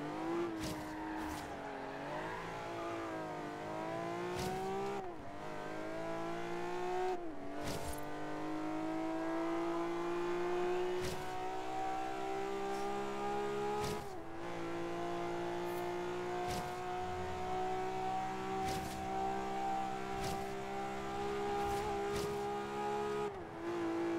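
Ferrari engine in Forza Horizon 3 holding a sustained, rising rev with steady harmonic drone and brief drops at gear shifts, loud and continuous for over twenty seconds.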